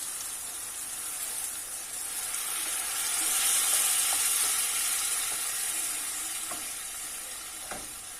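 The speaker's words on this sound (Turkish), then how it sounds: "Şöyle ben üzerine bir su bardağı sıcak su ekliyorum." Tomato sauce for Turkish eggplant oturtma sizzles in a pan after a glass of hot water is poured in, a steady broad hiss that swells midway and eases off, with a few faint clinks near the end.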